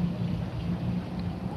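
Rain falls outdoors near the sea as a steady, dense low wash with no breaks, fairly loud and close, no voices over it.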